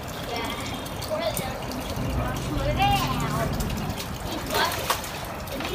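Water runs and splashes steadily while a puppy is showered, with people talking over the continuous trickle and spatter.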